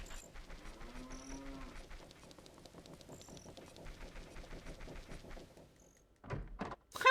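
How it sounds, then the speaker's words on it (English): A cow in the video game Ocarina of Time gives a drawn-out moo over a soft, steady game backdrop, followed near the end by a few louder sharp thumps. "That cow was evil!"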